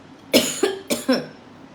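A woman coughs indoors, close and fairly loud, in two quick pairs of dry coughs with short gaps between them.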